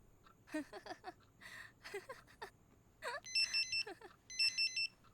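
A mobile phone rings with an incoming call, its ringtone sounding in two bursts of bright, repeating electronic tones after people talk in a dramatic film scene.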